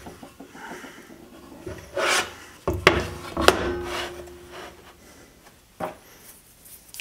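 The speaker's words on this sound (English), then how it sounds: "I can go ahead and tape it down and waste more tape." A wood piece is taped down with narrow blue tape in a workshop, giving a few sharp tearing and rubbing bursts and taps against the board, close and moderately loud.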